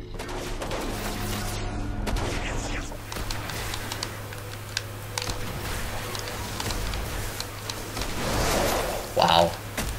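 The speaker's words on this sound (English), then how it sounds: "This shotgun is really good when you're up close" Shotgun blasts and combat noise in the Destiny House of Wolves story mission, dense gunfire texture with a few sharp close shots and a louder burst near the end, voices faintly underneath.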